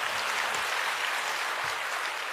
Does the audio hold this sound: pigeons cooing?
no